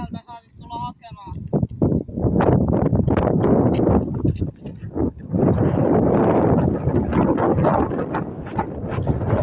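Strong outdoor wind buffeting the microphone at a frisbee golf course, a loud continuous rumbling roar that mostly masks people talking.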